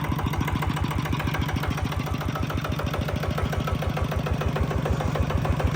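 A Golden Bow 15.5 horsepower small farm engine runs steadily at idle with a rapid, even chugging pulse, loud and close, no voices.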